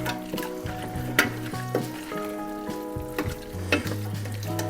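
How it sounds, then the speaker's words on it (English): Beef vegetable soup bubbling and sizzling in a pot, a steady hiss with occasional soft pops and clinks, close and moderately quiet. "we're going to let that simmer for a couple minutes"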